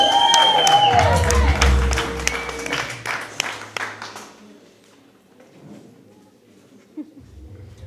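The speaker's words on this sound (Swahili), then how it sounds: "Piga makofi kwa Bwana Yesu." A church congregation claps loudly with some cheering for about four seconds during a gospel service, then the applause fades into near quiet with a few scattered sounds.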